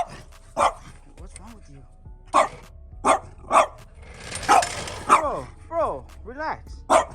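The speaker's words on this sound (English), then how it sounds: "Don't mind my dog barking at the jack." A dog barks repeatedly in short sharp bursts at a car jack, close by, with a person speaking briefly between the barks.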